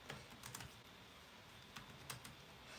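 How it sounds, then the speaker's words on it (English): Soft, irregular clicks of keys being typed on a computer keyboard, with a few sharper taps over a steady low background hiss. "Sorry, I'm typing."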